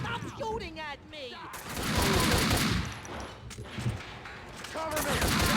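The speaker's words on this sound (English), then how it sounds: "Stop shooting at me." Sustained heavy gunfire in Max Payne 2, a dense roar of shots that swells loudest in the middle, with shouting voices heard at the start and near the end.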